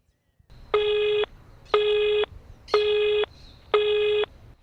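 Four loud, evenly spaced telephone busy-signal beeps repeat over a quiet line hum, with no voices.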